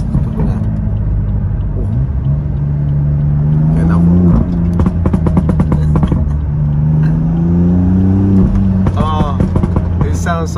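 BMW M4 with stage 2 tune and decats but stock exhaust, engine rumbling and revving with crackling low burbles and pops on the overrun, loud from inside the car, with someone talking over it.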